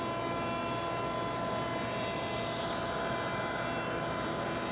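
A JetBlue Airbus A220 lands at Raleigh-Durham International Airport, heard as a steady, fairly faint jet engine roar from a distance that holds continuously without talk.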